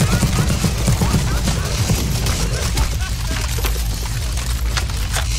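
Dense automatic gunfire in a CS:GO zombie escape match, loud rapid bursts layered over each other in a continuous barrage, with voices talking over the shooting.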